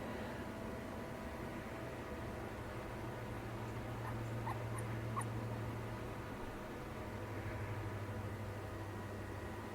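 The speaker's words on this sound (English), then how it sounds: "What more can you ask for a sleeping puppy?" A sleeping puppy whimpering faintly, soft high whines and little yips drifting over a quiet hiss of room noise.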